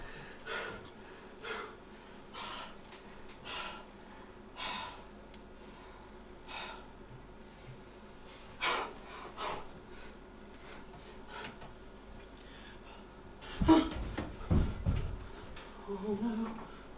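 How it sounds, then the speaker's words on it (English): Heavy, exhausted gasping breaths in a stage play performance, a series of sharp intermittent inhales and exhales spread over several seconds, fairly close, with a louder burst of rustling movement near the end. "I can hardly breathe."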